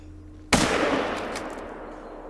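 A single loud hunting rifle shot in theHunter: Call of the Wild, a sharp close crack with a long rolling echo that fades over about two seconds.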